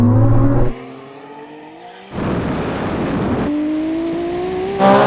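An SUV and a Ferrari accelerating hard from a rolling start in second gear, loud rising engine roar with gear changes and a dip in level before a surge of broadband wind and engine noise.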